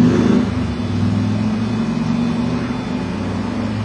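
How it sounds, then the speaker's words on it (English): A motorcycle engine drones at mid pitch in a steady, close rumble, slightly louder at first and then holding level with no voices over it. "Did you hear that motorcycle?"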